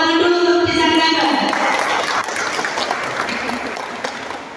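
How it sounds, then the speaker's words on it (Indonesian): Audience applause for Kenanga village at an evening anti-corruption outreach meeting for newly installed neighbourhood heads, steady clapping that fills the room for several seconds and fades slightly, with a voice speaking over the start. "Tepuk tangan dulu untuk desa Kenanga."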